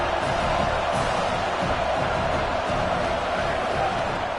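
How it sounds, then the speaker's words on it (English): A simulated stadium crowd in the College Football 27 video game roars continuously at a loud, steady level, a dense unbroken wall of cheering during a second down. "Listen to this crowd just shaking the girders of this place,"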